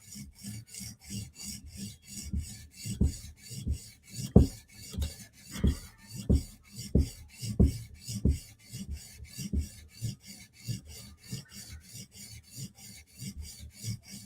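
A Chris Reeve Umnumzaan knife blade with fat bevels being sharpened to a mirror edge: steady, close rasping strokes repeat in an even rhythm, about two per second, with no voices.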